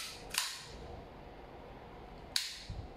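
Two sharp, loud handgun shots fired at a range, spaced about two seconds apart, each a crisp crack with a short tail, over a quiet background.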